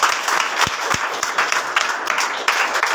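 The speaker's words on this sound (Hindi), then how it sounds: "सबके लिए जोरदार ताली बजाइए।" A church congregation gives a hearty round of applause to first-time visitors, dense steady clapping filling the space evenly from start to finish with no break.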